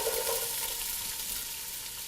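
Onions sizzling in extra virgin olive oil in a pan, a steady broadband frying hiss that runs without a break, starting slightly stronger and then holding at a moderate, close level with no voices.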